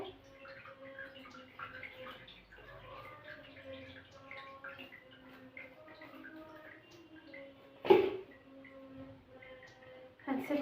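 Whey from homemade Egyptian white areesh cottage cheese drains through a strainer in a faint, steady trickle and drip, with a voice talking softly nearby.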